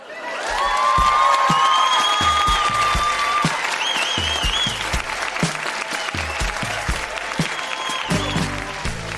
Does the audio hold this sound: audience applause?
yes